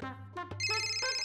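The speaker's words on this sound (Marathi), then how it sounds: "पिल्या उचल ना फोन." A mobile phone rings with a bright electronic melody, a rising run of tones that then settles into sustained ringing, loud and close with no talk over it.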